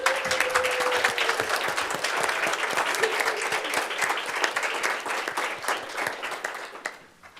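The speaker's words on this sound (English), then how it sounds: "Senators, please stand and join in this round of applause." Senators in a student senate chamber applaud in a sustained, dense round of clapping that fills the room at steady loudness, then tapers off and fades near the end.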